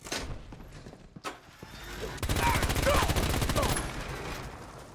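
A Gatling laser in Fallout 4 fires a sustained rapid burst of evenly spaced buzzing pulses for a couple of seconds, loud and close, after a few scattered thumps and shots.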